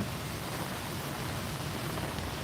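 Rain falling in Vientiane, Laos, a steady, dense hiss of drops across a wide band with no pauses, fairly soft and even, with no voices.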